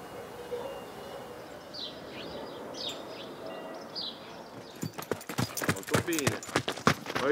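Hooves of Fogo, a black Murgese horse, clip-clop on a road along the Via Appia in Italy, a close, loud, uneven run of strikes that starts partway through after quiet outdoor ambience with faint birdsong.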